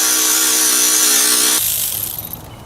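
A ratchet wrench with a short 10mm socket loosens a bolt on the battery bracket of a Honda CR-V, producing a loud, close, continuous buzzing run of fine clicks that cuts off and fades into quieter rattling.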